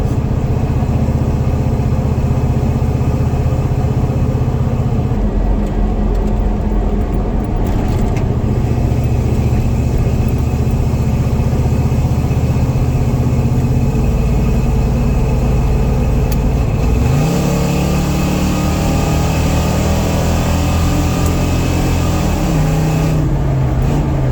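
A hot rod 4x4 truck engine with a Quadrajet carburetor runs steadily while driving, a loud, close, continuous drone that shifts pitch as the throttle changes, with no talk over it.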